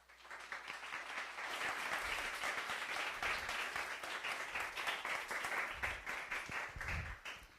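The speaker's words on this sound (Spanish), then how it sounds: "les pido que los reciban con un aplauso" An audience at a Spanish-language talk applauds to welcome a presenter. Clapping swells in quickly, stays full and steady for several seconds, then thins out near the end, with a few low thumps underneath.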